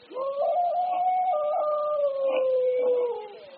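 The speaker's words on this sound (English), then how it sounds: "From somewhere across the lake, I heard the cry of a dog" A dog howls across a lake at night in a radio-drama scene, one long sustained wavering cry lasting several seconds, steady and fairly loud with a slight rise and fall before fading.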